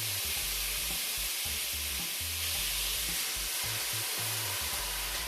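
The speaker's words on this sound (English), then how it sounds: "Just pour, it's gonna sizzle really loud" Loud, continuous sizzling and hissing of red wine poured into a hot pan for deglazing, close up and steady throughout with a low rumble underneath.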